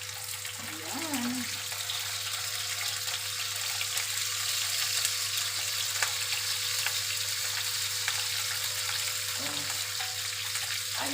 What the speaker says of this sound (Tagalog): Ngayon, ilalagay na natin itong isda na may tausi.